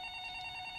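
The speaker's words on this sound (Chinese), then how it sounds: "你听到她的电话响了" A faint telephone ring in an indoor office scene gives a steady electronic tone with a bright, even pitch that lasts under a second.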